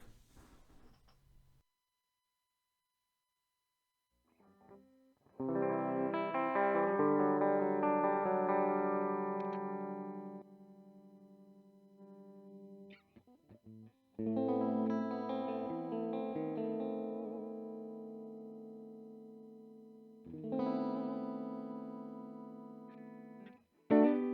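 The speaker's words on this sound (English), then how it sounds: "this is gonna be just the cab, the guitar straight in, and then I'll turn on the pedal" An electric guitar strums sustained chords three times with pauses between, sounding clean at first and then thick with pedal effects.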